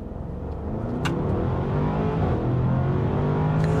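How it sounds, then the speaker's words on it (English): A 2023 Bentley Bentayga EWB in sport mode launches at full throttle from a stop, its engine droning loud and continuous as the pitch climbs steadily, heard from inside the cabin. "We're just gonna floor it from a stop and see what we can get here."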